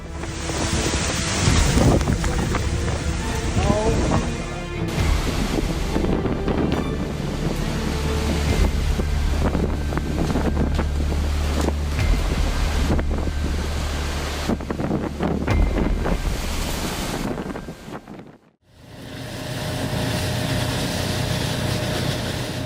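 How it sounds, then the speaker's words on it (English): A fierce storm at sea, where emergency rescue ships face it: loud, unbroken roar of wind and crashing waves that cuts out for a moment near the end, then surges back. "What do you think it's like for emergency rescue ships to face a fierce storm?"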